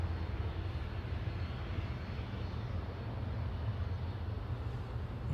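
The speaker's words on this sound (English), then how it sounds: "Etihad 777's taxiing out" An Etihad Boeing 777 airliner taxis at Manchester Airport, giving a steady, distant low engine rumble that holds even without talk.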